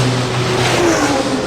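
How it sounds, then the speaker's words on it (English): A race car at the Nurburgring 24 hour race blasts past flat out, its engine note loud and close with a slight pitch sweep in a brief rush, no voices heard. "Each time the car comes past you can actually feel the wind of it"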